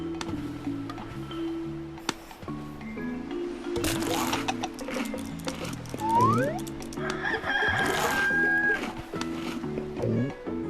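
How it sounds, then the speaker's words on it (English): Gull-like squawks and sharp rising cries from birds swooping in an island seaside attack, several calls overlapping near and loud over a busy outdoor background with music-like tones. "Oh, the seagulls are attacking again!"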